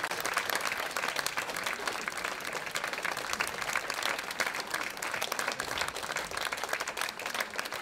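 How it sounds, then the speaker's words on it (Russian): Concert audience applauding, a dense sustained patter of many hands clapping at close range, steady and loud from start to finish. "Ваши аплодисменты."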